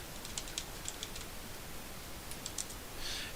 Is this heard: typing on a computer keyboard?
yes